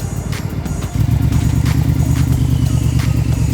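A motorcycle engine runs close by at a steady, loud, throbbing idle, its tone firming up after the first second and holding even to the end, with faint clatter over it; no one speaks.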